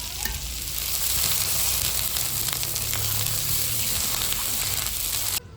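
Potatoes and spices sizzle loudly and steadily in a pan for a potato curry as a little water is added, a continuous close frying hiss that stops abruptly at the end.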